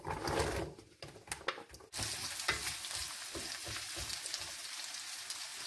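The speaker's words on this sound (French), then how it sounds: "Je taille ma courge en petits cubes, comme ça, et je rajoute dans ma poêle." Small cubes of butternut squash drop into a hot pan with a few knocks and clatters, then settle into a steady, close, even sizzle with no voices.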